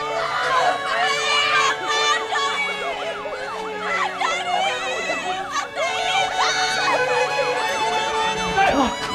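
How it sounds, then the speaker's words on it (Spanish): A wailing siren sweeps up and down continuously over a loud, busy scene with shouting voices and crowd noise. "¡Una ambulancia!"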